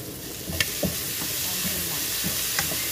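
Camel liver and broccoli frying in a pan with sweet soy sauce added, giving a steady close sizzle and hiss with a few soft stirring clicks.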